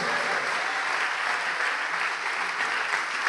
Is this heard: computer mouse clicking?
no